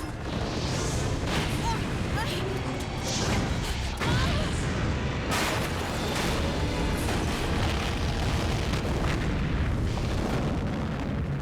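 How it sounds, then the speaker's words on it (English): A gas station blows up in Resident Evil 3, a loud, dense roar of blast and burning debris that rumbles without a break, with sharper bursts cracking through. "In the gas station's explosion,"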